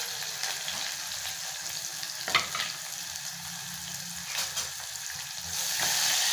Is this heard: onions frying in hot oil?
yes